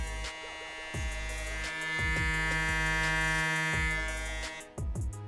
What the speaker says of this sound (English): Now this is the Instinct trimmer.